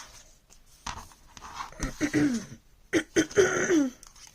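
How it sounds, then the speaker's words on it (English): Several rough throat clearings and coughs in a quiet room, close by, coming in two short bursts. "I apologize for clearing my throat on camera like that"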